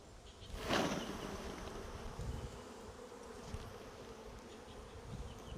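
Honey bees buzz in a dense, steady drone as they are shaken off a hive frame, with a brief swell of sound from the sharp shake near the start, heard close and without talk.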